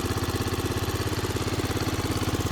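A 1976 Honda PC50 moped's small engine idles on its stand, a steady, close chugging putter with an even rapid pulse and a slight shaking vibration, running alone with no talk.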